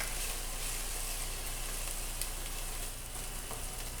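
Onions and garlic sizzle and fry steadily in a pot while being stirred, a continuous close, even hiss with occasional faint clinks and no talking.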